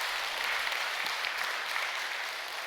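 An audience at a peace blessing ceremony applauds, a dense, even wash of clapping from many hands that holds steady throughout without a break.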